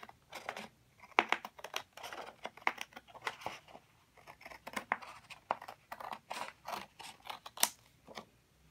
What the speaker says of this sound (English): I'm cutting on the black dashed line around the outside of both of these.